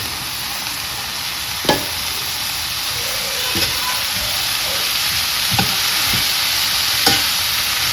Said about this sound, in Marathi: आता मिक्स करून घेते सगळी.